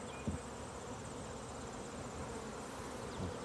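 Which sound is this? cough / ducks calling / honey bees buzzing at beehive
honey bees buzzing at beehive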